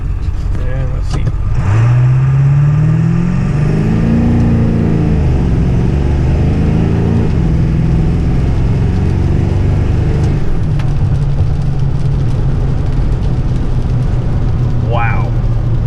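A car with a 238cc hybrid-turbo setup launches hard in four-wheel drive on the pedal alone, with no boost. The engine climbs in pitch as it accelerates and stays loud and steady, with a brief voice near the start.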